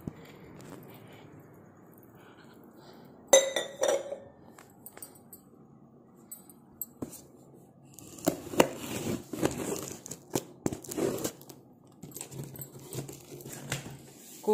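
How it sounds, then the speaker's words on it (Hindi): Two drinking glasses are handled and put away in a home kitchen, giving scattered light clinks and knocks with crinkling and shuffling sounds, in bursts separated by quieter stretches. "ये दोनों जो ग्लास हैं उनको भी मैं किचन में ही रख लेती हूँ,"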